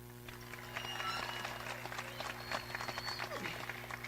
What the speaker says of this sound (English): Let's give a round of applause to the teachers who believed in us when we were having rough times learning.